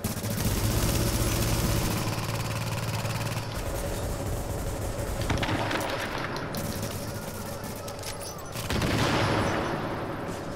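An automated turret in The Division fires dense, sustained bursts of gunfire at close range. The shooting is loud and continuous, with a short lull before another intense burst near the end.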